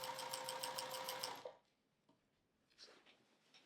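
Domestic sewing machine stitching quilting lines through a quilt, a steady rapid mechanical whir with fast regular stitch ticks for about a second and a half, then stopping, followed by faint handling noises.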